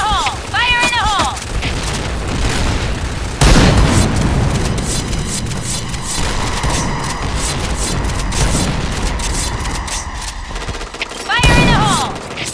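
Grenade blasts and sustained gunfire from the shooter game Point Blank, loud and continuous with heavy booms near the start and end, while a voice speaks over the noise.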